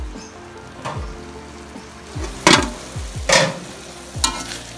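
Pork pieces fry in a pan with a steady sizzle, broken by several loud scraping stirs and clatters of the utensil against the pan.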